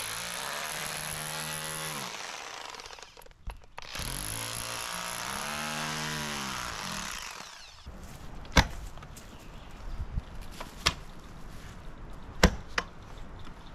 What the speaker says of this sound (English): rotary hammer just to kind of chisel out some of the clay.